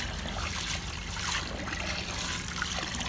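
Running water splashes steadily as soaked sticky rice is washed by hand to rinse off its starch, a close, continuous wash of trickling and sloshing with no talk.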